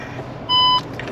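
A Skoda Kushaq sounds a single short electronic beep when it is shifted into reverse gear, clear and close over a quiet cabin hum.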